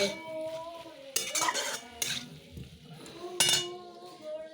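Cabbage ghonto with fish head stirred in a pot, a spoon scraping and clinking against the metal in a few distinct strokes over a soft, steady sizzle close by.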